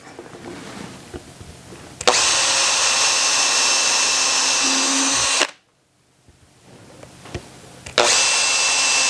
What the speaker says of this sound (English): So we'll do pilot holes, and then we're going to take a Forstner bit and recess this